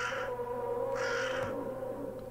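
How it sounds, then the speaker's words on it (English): A crow caws twice in the Garry's Mod video game, loud, harsh calls around a steady low droning ambience, with no talking over them. "crow."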